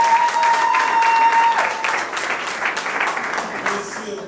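Guests at a Gabonese civil wedding break into applause and cheering for a witness, the clapping rising under a steady tone and a voice at first, then carrying on as a lively crowd sound.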